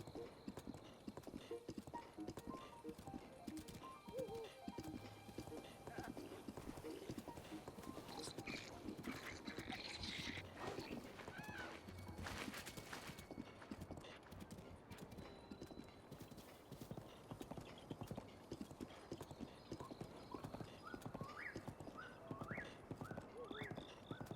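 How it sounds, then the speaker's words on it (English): Horse hooves clip-clopping in The Legend of Zelda: Breath of the Wild, a steady, rhythmic galloping beat that carries on throughout with an occasional whinny and some soft game ambience underneath. "As you can see, as far as getting around this game, horses are necessary."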